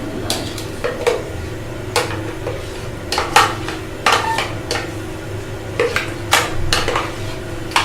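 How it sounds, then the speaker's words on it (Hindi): Metal utensils clink and scrape against a pot as blended lentils go into broth for haleem, with sharp intermittent knocks and stirring over a low steady background hum. "और ये जो दालें मैंने ब्लेंड कर ली हैं ये मैं इस शोरबे में डाल दूँगी।"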